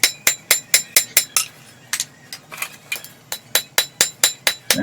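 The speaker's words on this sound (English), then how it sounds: "Now here I'm using the cross peen, kind of bringing that metal down just a little bit." A cross peen hammer strikes a hot metal blade on an anvil in quick, ringing rhythmic blows, loud and close, with a short pause mid-sequence before the steady hammering resumes.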